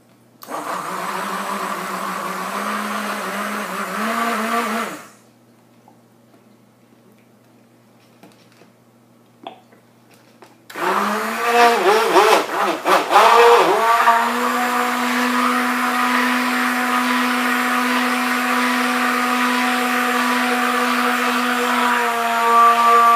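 A blender whirs as powders are mixed into soap batter, running for several seconds, pausing into near silence, then restarting with a rough rattling surge before settling into a steady loud drone.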